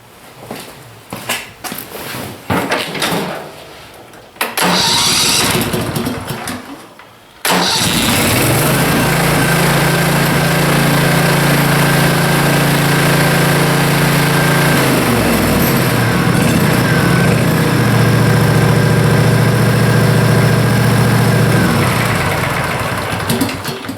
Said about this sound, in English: So let's start the engine and see what we get.